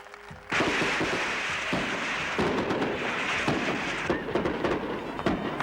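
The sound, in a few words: fireworks exploding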